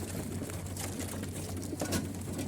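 Soft low cooing from pigeons in a rooftop loft above a shop in Oman, a steady murmur with faint flutters and background hum throughout.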